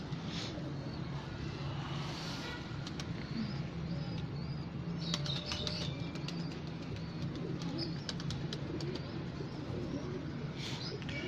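Pigeons in a coop coo softly and repeatedly over a low, continuous background hum, with occasional brief rustles and flutters, for about eleven seconds.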